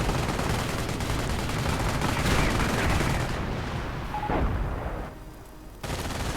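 MG42 machine gun fire rattles in a World War II video game battle, a dense, continuous clatter of shots mixed with explosions, loud and unbroken before dropping briefly near the end.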